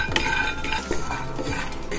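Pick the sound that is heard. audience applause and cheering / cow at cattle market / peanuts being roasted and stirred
peanuts being roasted and stirred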